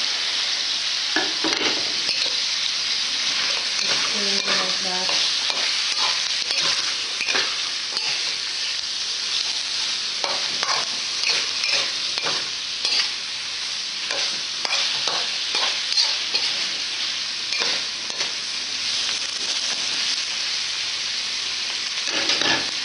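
Garlic and onion sizzle hard in a hot pan for a Filipino cola chicken dish, a dense continuous hiss close up, broken by repeated scraping stirs throughout, with no talk.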